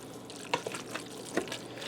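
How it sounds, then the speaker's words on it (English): Cheese being stirred into spaghetti sauce inside a Ninja Foodi pot, a quiet wet scraping and bubbling with a few soft clinks of the spoon against the pot. "I'm just stirring that to blend that"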